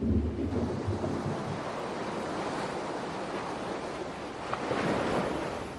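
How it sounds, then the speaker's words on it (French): Strong ocean waves pounding the coast with wind buffeting the microphone, a continuous roar of surf with a building surge near the end. "Des vagues plus puissantes frappent la côte et emportent le sable."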